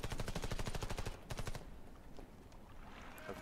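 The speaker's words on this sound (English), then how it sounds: "Who's shooting at me?" Automatic gunfire in the PC shooter game Warface on the Dock map, a fast loud burst of rounds followed by a shorter burst, then more distant scattered shots.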